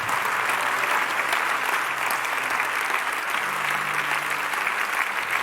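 A church congregation breaks into sustained, loud applause, a dense, steady wash of many hands clapping with no talk over it.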